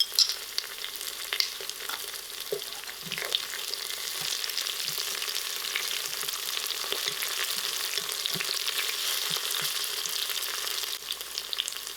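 Curry leaf, thyme and ginger-garlic fry in a pot, giving a steady close sizzle with occasional stirring clicks and scrapes throughout, no voices.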